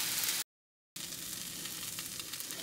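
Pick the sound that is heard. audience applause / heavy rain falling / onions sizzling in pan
onions sizzling in pan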